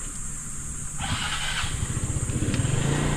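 A small motorcycle labours up a mountain road on Mount Arayat, its engine note rising and revving harder partway through as it climbs close by.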